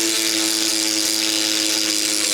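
Rotary tool with an abrasive bit porting a Garelli moped cylinder, giving a loud, constant high-pitched grinding whine that holds steady without pause.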